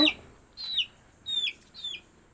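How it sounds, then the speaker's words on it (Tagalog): A pet chicken clucks three or four times in short, separate calls, close by in a quiet setting. "Maamo yung kanyang alagang manok"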